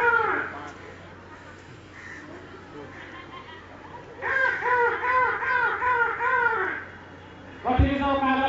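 At Modern Indian School, a voice imitates bird calls, delivering a run of loud, rhythmic, crow-like warbling cries, then a pause and a sharp final burst of calls.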